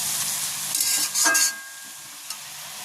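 Kheshari korai shaak being stirred in a hot pan, a steady close sizzle with a few louder scraping bursts of the spatula, no voices.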